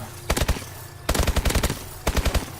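Three rapid bursts of automatic fire from the SN-6 submachine gun in Call of Duty Advanced Warfare, each a tight string of loud, punchy shots at close range, separated by brief pauses on a firing range.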